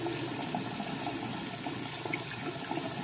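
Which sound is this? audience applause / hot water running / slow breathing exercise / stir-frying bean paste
hot water running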